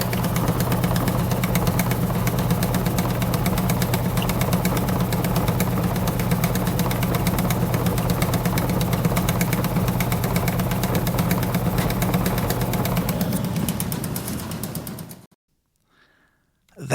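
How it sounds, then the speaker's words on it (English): A seed cleaning machine runs steadily, its shaking screen rattling back and forth over a continuous low blower-fan hum that winnows the seed, loud and close, then cutting out abruptly near the end. "The screen shaking back and forth, and the blower in the background."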